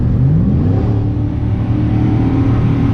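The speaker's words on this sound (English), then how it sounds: "Does that sound a little louder than a stock exhaust? Because it is." A loud, deep engine rumble with a throaty exhaust note from a Chevrolet Suburban with its muffler removed, running steadily up close with a slight rev.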